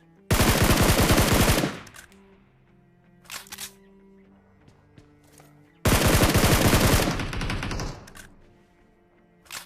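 Automatic gunfire in the mobile game PUBG Mobile: two long, loud rapid-fire bursts with a few short shots and faint in-game sounds between them.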